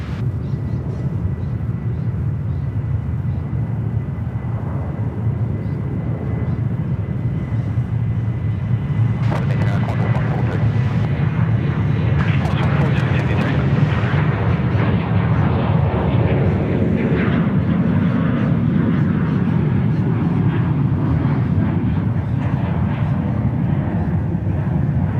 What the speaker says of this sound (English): Our 737-700 getting underway.